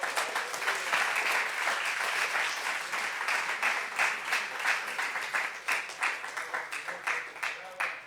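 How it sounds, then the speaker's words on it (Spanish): A church congregation breaks into sustained applause, dense clapping that holds steady and then thins into scattered claps toward the end, with a voice calling out faintly underneath. "Dele un aplauso a Cristo, hermano."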